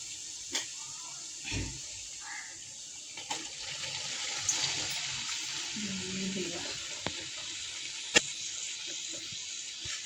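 Chicken liver drops into ginger-garlic paste that has browned in a pan and fries with a steady, quiet sizzling hiss, broken by a few soft knocks and clicks.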